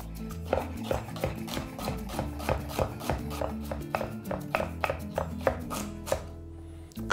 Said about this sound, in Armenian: նեխուրը կտրատում ենք շեղակի և բարակ